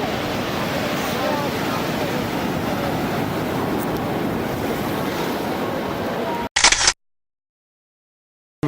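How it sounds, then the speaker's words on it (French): Ocean surf washes onto the shore beside a temple in Bali at sunset as a continuous, close, broadband rush with some wind noise. It ends in a sharp camera shutter click and then silence. "Et en fait, les vagues arrivent tout juste au bord."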